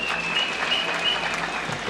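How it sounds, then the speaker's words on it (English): Mourners at Professor George Magoha's memorial applaud Eugene Wamalwa, a steady wash of clapping from a large gathering, moderately loud and continuous. "Let's give him a clap."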